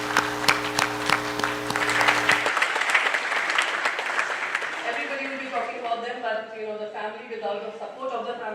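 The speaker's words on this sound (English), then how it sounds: "let's give them a big round of applause" At a 50 Under 50 ceremony, an audience breaks into warm, sustained applause that starts over a brief musical tone and then continues beneath a voice speaking.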